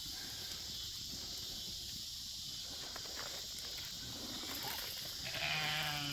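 Sheep and goats, ewes among them, grazing on a forage pasture of sorghum-sudan mix and ragweed, heard as a steady outdoor rustle and munching with faint animal sounds at a distance and no talk.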